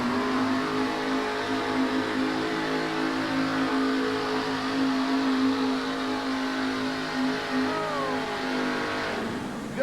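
Engine of the Pumpkin, a 4WD pulling truck, roaring loud and steady under load at a USHRA truck pull in Albany, Georgia, with a sustained droning pitch that trails off at the end.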